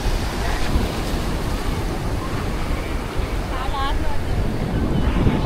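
Steady roar of sea waves mixed with wind buffeting the microphone, continuous and loud, with a brief faint voice in the background.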